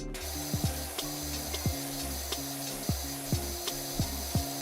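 In PowerWash Simulator 2, a pressure washer gives a steady, close hiss of spray that runs the whole time under looping game music with regular soft knocks.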